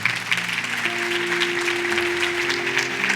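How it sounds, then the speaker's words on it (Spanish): A church congregation claps in steady, dense applause that fills the room, with a sustained organ or keyboard chord underneath and no talk. "Un aplauso, dáselo al Señor"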